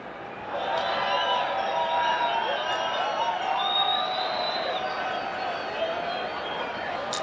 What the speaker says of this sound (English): Nice crowd in Guadalajara.